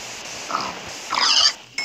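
Minecraft pigs give a short grunt, then a louder and longer snorting oink a moment later. A game sound cuts in at the end, and no one speaks.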